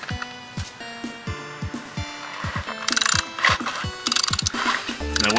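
A ratchet fitted with an extension loosens a drain plug, giving rapid metallic clicking in quick bursts of several strokes each, close and clear with no talk over it.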